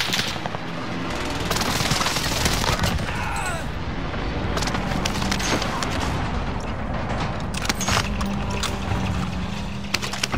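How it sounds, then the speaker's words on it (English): A precision airstrike in a video game, a loud, sustained roar of gunfire and explosions with rumbling impacts, and a voice speaking over it. "Precision airstrike."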